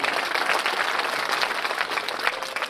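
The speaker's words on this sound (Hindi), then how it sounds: "जितना भी छात्र या छात्राएं बहनें और भाइयों ने ताली बजाई है उनको बहुत बहुत धन्यवाद" Students, sisters and brothers clap together at a 2019 festival event, a dense, steady patter of applause holding evenly throughout with no pauses.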